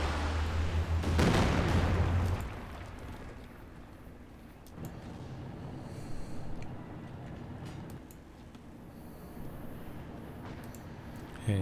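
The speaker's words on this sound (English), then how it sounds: "Katyusha barrage targeting the ISG" Katyusha rocket barrage in the World War II strategy game Company of Heroes 2, a rough roaring burst at the start that gives way to scattered thumps and crackling impacts under a steady battle din.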